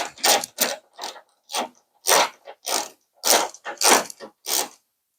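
Ratcheting on a bolt securing a Ford F350 tailgate (2015–2020), a series of about ten short, close clicking bursts at an uneven, hand-driven pace, with nothing else heard.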